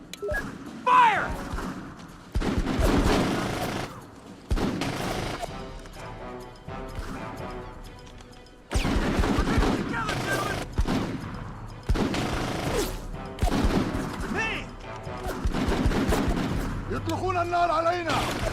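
Gunfire during a squad battle in an original Xbox video game demo: repeated bursts of shots and crashing impacts come in waves across the whole stretch, loud and close, with radio-style voices talking between them.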